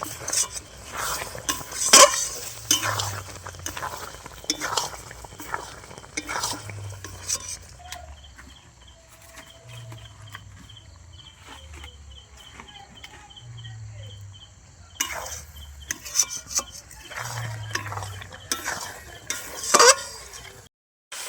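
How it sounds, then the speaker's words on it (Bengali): A sticky, thickening sweet jujube (kul) pickle is stirred in a pan with repeated scraping strokes and occasional utensil clinks. The strokes drop away to a quieter stretch midway, then resume loudly near the end. "দেখুন কুলটা আমি 10 মিনিটের মতো নেড়ে চেড়ে নিয়েছি।"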